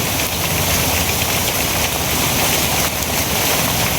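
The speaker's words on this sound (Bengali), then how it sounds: "বৃষ্টি যে শুরু হয়েছে" Steady heavy rain pours continuously outdoors at a village home, a dense loud hiss with no breaks or voices.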